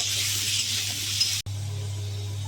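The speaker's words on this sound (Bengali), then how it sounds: "আলুগুলো ভালো করে ভেজে নেব।" Potatoes fry in oil with salt and turmeric in a pan, a steady bright hiss close by over a low hum, broken by one sharp clink midway.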